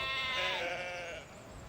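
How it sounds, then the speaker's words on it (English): A single sheep gives a clear, wavering bleat at a caravan site, moderately close and fading out, with no talk over it. "This site is overrun with sheep"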